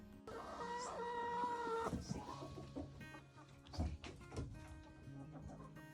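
Chickens on a small chicken farm in Talkeetna, Alaska: a rooster-like crow rises early, followed by scattered clucks and calls over a continuous background of birds, fairly faint and distant.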